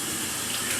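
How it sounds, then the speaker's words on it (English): Cold water runs steadily from a bathroom tap for rinsing the face after a shave, a close, continuous hiss and splash with no talk. "So now I'm going to rinse my face with cold water"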